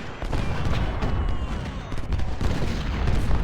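12-pounder howitzer fire in Ultimate General: Civil War's Battle of Cross Keys, heavy overlapping booms and crackling gunfire forming a steady, loud battle din with no talking.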